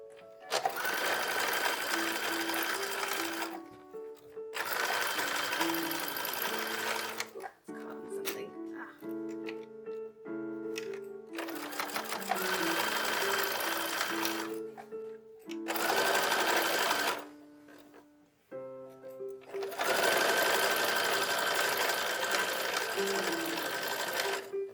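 A sewing machine stitches a skirt onto a 1910s-style infant dress, running in several loud bursts of fast, steady whirring broken by short pauses, close up and with no voices.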